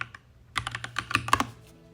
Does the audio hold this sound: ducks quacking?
no